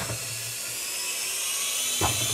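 A small JJR E129 three-channel RC helicopter flying close by, its motor giving a steady, high-pitched electric whine with no gaps, and a short thump near the end.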